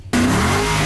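A car engine revs hard, one of about eighty cars on a charity rally scavenger hunt through Rhinelander in the Northwoods, starting abruptly after a quiet moment and holding a loud, steady rising roar close by.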